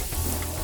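Butter sizzling steadily in a pan while a seafood boil sauce is being made, a close, even hiss throughout the brief moment.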